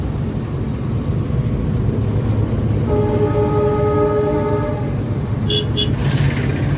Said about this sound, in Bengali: ট্রেন যাইতেছে তো ওইটার শব্দ আসছে